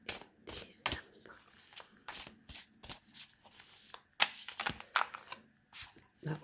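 Tarot cards being shuffled in repeated quick riffling bursts, close and crisp, with brief pauses between shuffles and no talking.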